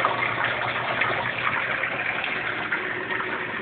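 Water pumps out of a pipe in a rock-bed aquaponics system, a steady, close gushing rush with no pauses that holds level from start to end.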